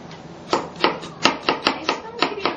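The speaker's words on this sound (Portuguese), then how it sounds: "Porque quando você pica a cebola" A knife chopping an onion on a cutting board makes about eight crisp, evenly spaced chops in quick succession, close and clear against quiet background.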